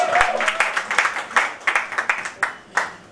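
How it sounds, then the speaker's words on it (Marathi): Scattered, uneven clapping from a small audience at a teaser launch event for the Marathi film Gharat Ganpati, with distinct separate claps rising and falling rather than a full roar. "या सगळ्या कलाकारांसाठी जोरदार टाळ्या झाल्या पाहिजेत"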